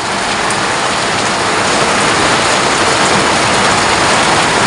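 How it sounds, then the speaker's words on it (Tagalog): Heavy downpour of rain in Calabarzon, Philippines, a dense, loud, unbroken roar of water hitting surfaces that stays steady throughout with no voices. "There's a very strong heavy downfall of rain here in Calabarzon."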